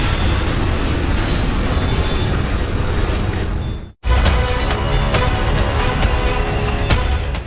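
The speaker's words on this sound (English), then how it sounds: "An Airbus A300 takes off from JFK Airport to Santo Domingo in the Dominican Republic" An Airbus A300 airliner takes off from JFK Airport, its jet engines producing a loud, continuous roar with no voices, broken by a brief drop to silence midway before the roar resumes.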